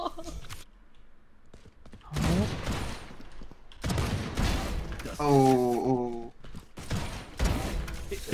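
Gunfire in the shooter game Valorant arrives as several sharp bursts and shots separated by brief gaps, mixed with mechanical clicks and game effects, while a person talks excitedly over the action.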